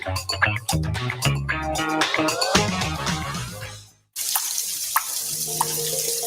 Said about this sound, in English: Leaving the pipe partially open can waste lots of water.